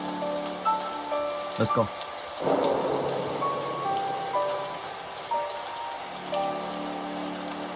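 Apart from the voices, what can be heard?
rain in the video game Slendrina 2D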